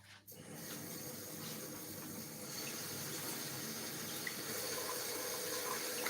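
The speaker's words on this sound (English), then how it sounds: "So fresh basil, I'm going to wash that." Tap water runs steadily and close by into a kitchen sink as fresh basil is rinsed while making pizza Margherita, a continuous even splash lasting throughout with no talking.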